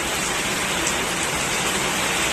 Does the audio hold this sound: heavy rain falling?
yes